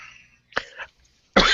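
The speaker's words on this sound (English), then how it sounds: "and I got a cough." A person coughs twice: first a short, rough cough, then after a brief pause a louder, harsher burst at close range.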